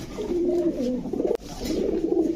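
A male Sundari pigeon coos in low, throaty, rolling phrases close by, with a sharp click partway through and faint background noise from a pigeon market.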